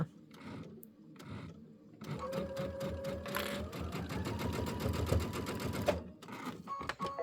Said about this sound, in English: So we're going to sew in here first, just to make sure it looks good.